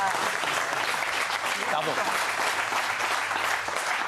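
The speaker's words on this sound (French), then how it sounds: "C'est ça, bravo, on peut l'applaudir." Steady, dense applause from a crowd fills the whole stretch, with a brief voice speaking over the clapping.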